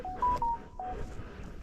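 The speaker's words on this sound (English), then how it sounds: "Why does that phone keep going off like that?" Touch-tone dialing beeps from a telephone sound out at a botanical garden in Ringwood, New Jersey, in January: four short clear tones in quick succession over a low background rumble, then quiet hiss.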